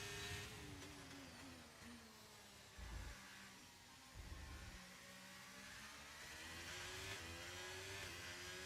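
A Haas race car on a lap of the Jeddah circuit, its engine whining at high revs, rising and falling through gear changes, fairly faint and at some distance, with a couple of brief low thumps.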